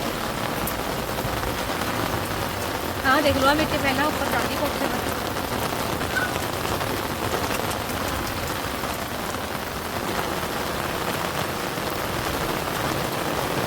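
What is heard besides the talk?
heavy rain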